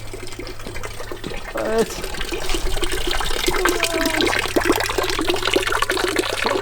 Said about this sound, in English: Got a little neat water feature here.